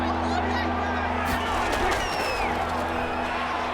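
A stadium crowd roars steadily through a Broncos–Raiders football game in Madden 21, a dense and continuous wash of noise with a brief swell partway through.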